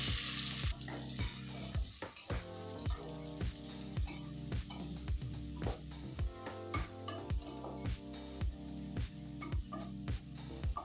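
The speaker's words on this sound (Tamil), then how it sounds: "இப்போ வெங்காயம் நல்லா வதங்கிடுச்சுங்க." Onions fry in oil with fennel seeds and cashews for mushroom biryani, a steady close sizzle broken by regular scraping stirs of a spoon against the pan.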